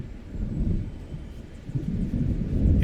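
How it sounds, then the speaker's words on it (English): An approaching thunderstorm in Alan Wake Remastered, a low, continuous rolling rumble of distant thunder that swells slightly toward the end. "It seems there's a storm coming."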